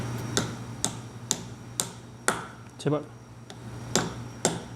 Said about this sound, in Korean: 남은 부분을 망치로 박아 넣어 볼게요.